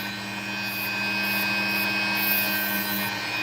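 A Dremel rotary tool drives its blade through a cut in opal, producing a steady, close, high-pitched grinding whine that holds constant throughout with no talking.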